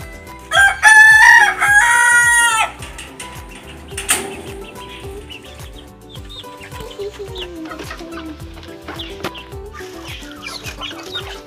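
A rooster crows loudly nearby, followed by softer clucking and scattered chicken calls in a quiet farmyard.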